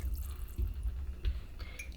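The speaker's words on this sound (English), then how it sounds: "So we're just going to pour in our heavy whipping cream." Heavy whipping cream pours from a container into a pot of homemade zuppa toscana soup, making a soft, quiet liquid trickle with a few gentle splashes over about two seconds.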